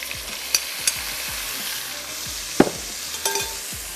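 Sliced onions frying in hot oil, a dense, steady sizzle heard up close, with rhythmic low thumps and a few sharp clinks of a spoon stirring against the pot.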